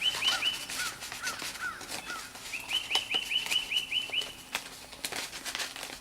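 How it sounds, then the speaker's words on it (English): A bird calls outdoors in repeated, evenly spaced chirping phrases, clear and moderately near, with a few faint knocks in the background. "We got one bird singing away, don't we?"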